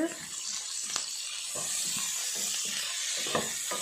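Bitter gourd pieces fry in a pan with a constant hissing sizzle, moderately loud, and occasional stirring clicks, while a voice speaks over it.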